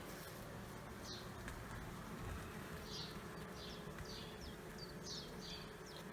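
Honey bees buzz steadily from an opened hive at the first inspection of the year, a dense low hum running throughout with a few brief higher insect flybys passing near.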